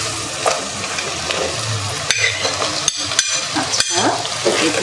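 Vegetables, including papaya, sweet pumpkin and bottle gourd, sizzle in a pan as a spatula stirs them, with sharp scraping clicks every second or so over the continuous frying hiss; no talk.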